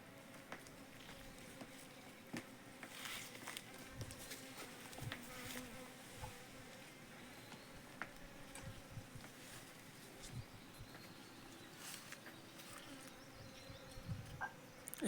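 Honeybees foraging among blooming rhododendron flowers outdoors, a continuous buzzing swarm with individual bees droning close by and passing, steady throughout with no talk.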